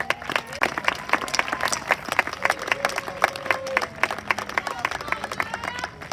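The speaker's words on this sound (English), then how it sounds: "Can we have a round of applause for the scholars again, please?" A crowd claps for scholars at an eighth grade promotion ceremony, a moderate, uneven patter of individual claps with some cheering, fairly close and steady over several seconds.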